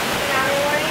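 Heavy rain during Thailand's rainy season pours down as a dense, steady wash of noise, close and loud for a brief moment.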